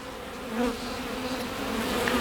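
Honey bees buzzing in an open hive box, a dense, steady drone of many wings close by, rising slightly in loudness, with no talking.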